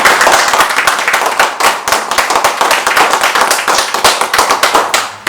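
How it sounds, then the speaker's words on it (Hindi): Loud clapping from a seminar audience in India, sharp close hand claps in a fast, steady, slightly uneven rhythm that continues throughout without talk. "मैं चाहता हूं कि आप सभी के लिए जोरदार तालियां होनी चाहिए।"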